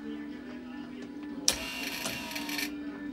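ABS modulator solenoid on a buggy brake setup switched on, moving a wheel cylinder: a low steady hum, then a sharp click and a brief buzzing whir of about a second before the hum returns.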